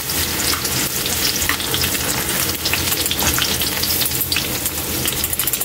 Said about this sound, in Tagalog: Yan Kaili, dahil mainit na yung natin, ilagay na natin yung luya.